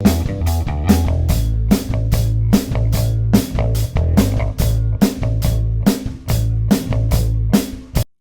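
Unmixed, problematic drum kit recording with a wonky, raw sound, loud and steady: kick and snare hits repeat in an even groove with ringing cymbals across the whole stretch and no voices.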